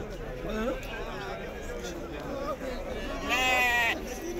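A sheep bleats at a livestock market selling Eid sheep, with one clear wavering bleat near the end rising over a steady bustle of crowd noise and vendors talking nearby.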